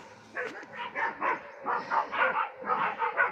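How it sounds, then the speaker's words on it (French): Several dogs bark agitatedly in a rapid, uneven volley of yaps and woofs, fairly close and continuous with no talk. "Les chiens sont en train de s'énerver"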